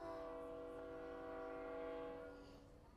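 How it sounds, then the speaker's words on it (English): Passing train, a sustained tonal horn-like blare with layered harmonics holding for a couple of seconds before fading, set against a low rumble, with no voices. "Oh, the train is coming through, so you may hear the train."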